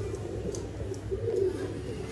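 An old-line pigeon offered for sale in Bangalore coos softly and steadily in a low murmur, heard close with faint chirps around it and no talking.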